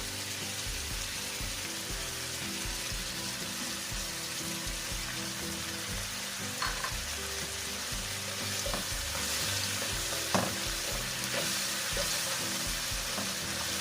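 Squid stir-fries in a pan with garlic, pepper, sugar and sauce, giving a steady bubbling sizzle with occasional sharp clicks and taps from stirring, close and even throughout.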